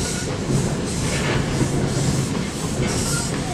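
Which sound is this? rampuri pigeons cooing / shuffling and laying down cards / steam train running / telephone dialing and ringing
steam train running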